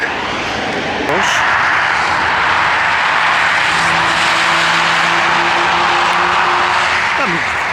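A Mustang car drives past on a road in Cornwall, its engine rising into a steady loud roar at close range, then a second engine note joins before the sound pulls away.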